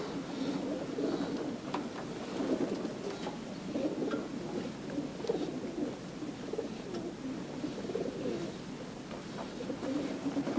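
Wood pigeons coo steadily in a Landes forest where they are hunted, their soft, repeated calls overlapping at a moderate distance over constant outdoor ambience.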